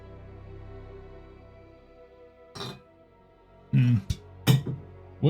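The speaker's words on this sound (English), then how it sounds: "I just knocked my empty can of Copperberg alcohol-free cider off my desk" A hum fades out, then an empty aluminium cider can knocked off a desk clatters and bounces on a hard floor in a few quick knocks, close and fairly loud.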